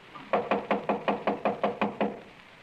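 A door is knocked on in a steady series of about nine evenly spaced, solid raps, close and clear with nothing else over them.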